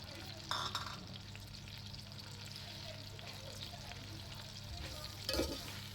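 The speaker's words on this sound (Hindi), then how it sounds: "ये देखिए, सवैयाँ डाल के इनको अच्छी तरह से भून लें।" Vermicelli (saviyan) roasting in hot oil gives a low, steady frying hiss, broken by two brief louder stirring scrapes near the start and end.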